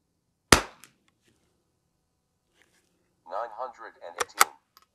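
One sharp, close crack from a .22LR rifle firing Lapua Midas Plus ammunition across a chronograph rings out alone, followed after a pause by a person speaking.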